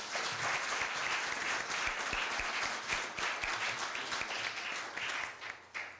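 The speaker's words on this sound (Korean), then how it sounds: "박수 부탁드립니다" Sustained applause from a crowd at a Korea University event, a dense wash of clapping that holds steady throughout before tapering slightly at the end.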